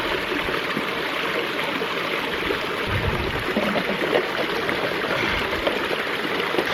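Fresh water from a mountain stream rushing and splashing nearby while water bottles are filled, a steady broadband flow with no voices.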